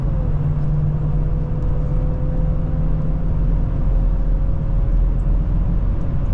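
A supercharged 2025 Ford F-150 with a 10-speed gearbox accelerates at full throttle, heard from inside the cab as a loud, steady engine drone and road rumble with a faint whine rising slightly in pitch.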